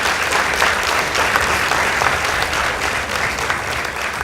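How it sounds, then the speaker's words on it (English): Studio audience at a televised school debate competition applauds steadily throughout, a dense, continuous wash of clapping with no pauses, loud and close. "Let's give them a round of applause, please."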